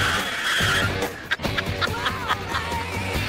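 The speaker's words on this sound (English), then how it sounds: "he slams on the brakes." A car braking hard from 50 mph, its tires skidding and squealing on pavement, a sharp screech over engine rumble followed by brief laughter and reactions from people nearby.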